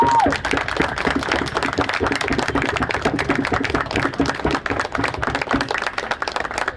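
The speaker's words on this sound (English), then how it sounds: "please give a big clap" Sustained applause from a crowd at a company event for electric two-wheelers, dense overlapping claps filling the whole stretch at a steady, loud level.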